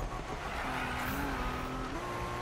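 A race car in Need for Speed, with its engine droning and tires squealing in a skid through a steady stretch of driving.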